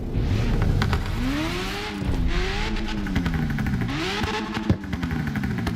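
Turbocharged car engine in the CarX Street racing game, revving loudly with rising and falling pitch sweeps and rapid fluttering chatter between throttle lifts, continuous and close with no talking.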